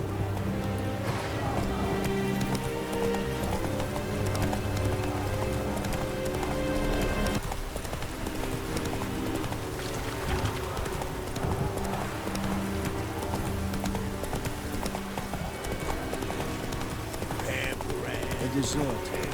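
Roach the horse gallops in The Witcher 3: Wild Hunt Next Gen on PS5, with steady, continuous hoofbeats running beneath a dense game music score that fills the whole stretch.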